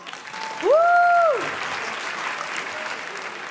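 A comedy-show audience breaks into a burst of applause and cheering, with a loud exclamatory voice over the start of the clapping.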